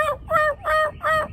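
A human voice imitates a hen turkey's yelp, giving four nasal, evenly spaced yelping notes, close and fairly loud.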